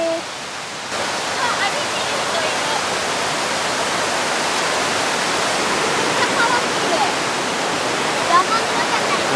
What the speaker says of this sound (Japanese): うわここは川が下に流れておりますね。